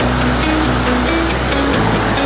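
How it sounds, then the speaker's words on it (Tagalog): Water from a river waterfall rushes in a loud, constant roar that fills the whole moment, steady and close, with no voices over it. "Dito kami sa falls."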